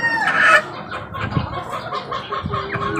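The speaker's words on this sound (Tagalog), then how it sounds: "nauhaw yung aking sisiw" A young chick, thirsty and about to be given water with vitamins, clucks and cheeps in short bursts, one louder call at the start followed by softer chirps, close by with no speech.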